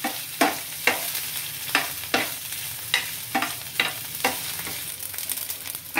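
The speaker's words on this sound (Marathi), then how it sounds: "आता मी 1 पळी अजून तेल टाकते आणि त्याच्यात हे स्वच्छ धुतलेले सोडे टाकून भाजते." Washed dried prawns roast in oil in a pan, crackling and sizzling under evenly spaced stirring scrapes, close up and alone.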